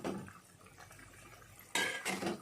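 Eggs dropped into a pot of boiling water for a brinjal and egg curry: a faint bubbling bed, then two louder clattering splashes of shell against the pot near the end, close, with no talk.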